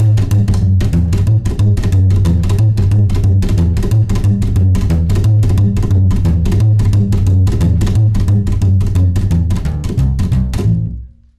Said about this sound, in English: Now this next one is kind of a triple slap, but it's a different phrasing.